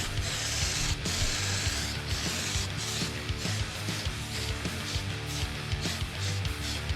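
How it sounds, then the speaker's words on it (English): Aerosol spray paint can sputtering and hissing as it sprays, with a continuous loud hiss broken by rapid rattling, clicking bursts, close up and steady throughout. "This spray can's making stupid fucking noises too."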